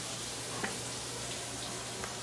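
Onions fry in a pan for spaghetti sauce, giving a quiet, even sizzle with a couple of faint ticks, close but low in level and without speech.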